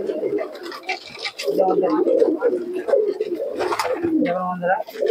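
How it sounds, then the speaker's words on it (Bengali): Pigeons coo at a pigeon market in Murshidabad, West Bengal, their calls mixed with steady chatter from people talking close by throughout. "একটা কবুতর। এটা কি কবুতর?"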